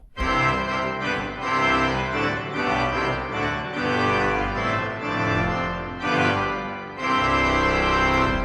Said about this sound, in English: If you want it to be a bit thicker and more powerful, you can add reeds to it.